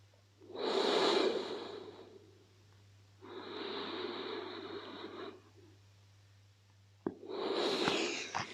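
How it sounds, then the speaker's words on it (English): Slow, deep belly breaths during a yoga session, three long airy inhales and exhales in a steady rhythm, close and soft with a low hum beneath. "Breathe into the belly. Exhale it out."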